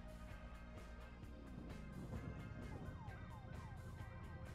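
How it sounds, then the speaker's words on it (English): Sirens wail with sweeping, rising and falling tones over a steady low engine rumble, fairly faint and continuous, in a bakery delivery simulator video game. "There's sirens."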